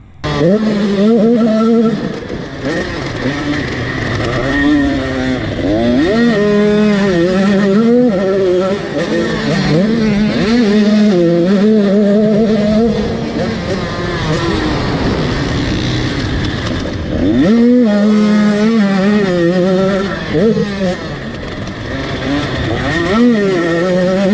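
A 2-stroke 105cc Super Mini dirt bike rides laps, its engine rising and falling steadily through repeated revs for the whole stretch, loud and fairly close, with talk partly mixed in.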